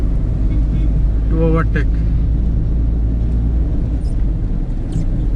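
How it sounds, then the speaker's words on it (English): A 2020 Tata Tiago car accelerating in fourth gear on a wet road, heard from inside as a steady, loud engine and road rumble under a brief spoken remark. "I can easily accelerate in fourth gear"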